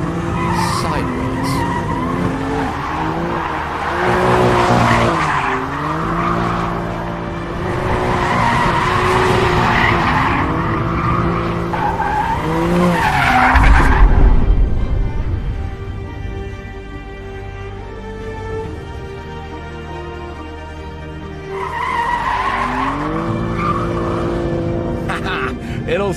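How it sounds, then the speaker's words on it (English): A 2023 BMW M2 compact four-seater slides through big skids, its tyres squealing in long wavering howls over a revving engine, loud and close, with someone talking over much of it. "a 4-seat compact car that will do big skids like that"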